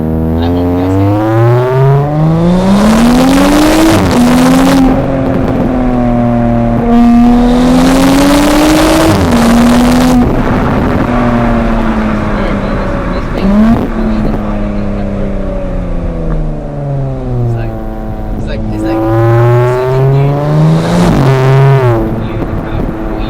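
Audi S5 rated at 350 horsepower accelerating hard in first gear, engine note climbing steeply in loud repeated pulls with gear-shift dips between, close and unbroken, no talking.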